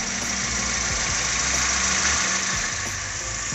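A car engine idles roughly with an ignition system fault, a loud, close, continuous low rumble with slight uneven shaking throughout and no speech.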